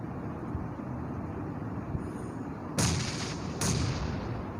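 A grenade blast in the battle royale game PUBG Mobile, a loud broadband burst followed by a second similar boom about a second later, over a steady rumble of game noise.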